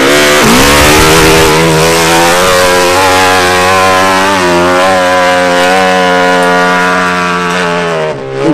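A motorcycle engine screams at high revs while climbing a steep mountain hill-climb slope, loud and close, its pitch surging at the start and then holding a sustained strained whine before dropping off at the end.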